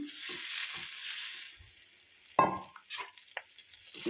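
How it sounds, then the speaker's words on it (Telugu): Rice semolina poured into boiling water in a pot and stirred, a steady bubbling hiss with a sudden rush as the grains go in, followed by scraping stirs of a spoon. "వాటర్ అయితే మరుగుతున్నాయి ఇది బియ్యం రవ్వ ఇదైతే రవ్వ ఇందులో వేసేస్తున్నాం"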